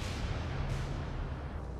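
16-inch naval cannons fire in the War on the Sea naval combat game, a single heavy, close boom with a rumbling tail that fills the short moment.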